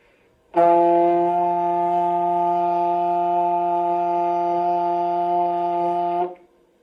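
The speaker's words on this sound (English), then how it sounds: "it's gonna be the F, which is higher." A trombone holds a single sustained higher F steadily for about six seconds, bright and rich in harmonics, starting cleanly and cutting off, played alone.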